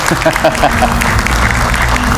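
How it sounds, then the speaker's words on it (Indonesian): A television studio audience applauds during a political talk show, the clapping steady and fairly close, with a voice speaking over it at the start. "Kita berikan tepuk tangan"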